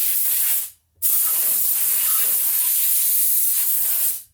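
Air hisses hard and loud from a leak on an old Worthington air compressor, a steady broadband rush with a brief cutout before it resumes and fades out.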